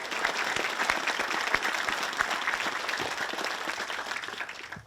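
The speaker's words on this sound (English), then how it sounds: "So if we can give them a round of applause" An outdoor crowd at a Veterans Plaza dedication ceremony claps for the Scouts and young leaders in a steady, moderately loud round of applause with distinct individual claps, tapering off at the very end.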